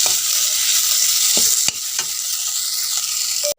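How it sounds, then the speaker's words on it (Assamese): Fish curry with waterleaf frying in a pan while being stirred, a bright continuous sizzle broken by a few scraping strokes of the spoon and a sharp knock near the end, with no talk. "মই ভালদৰে লৰাই দিছোঁ"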